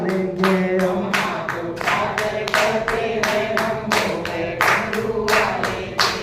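Devotees at a Shiv Mahapuran katha clap their hands in a brisk, steady rhythm to a Shiv bhajan, the loud sharp claps repeating close by over the singing voices and music.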